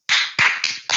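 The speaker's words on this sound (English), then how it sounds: "Let's give them all one last round of applause" A conference audience claps for award winners and junior presenters in a few separate bursts, each a loud flurry of hands that fades and then swells again.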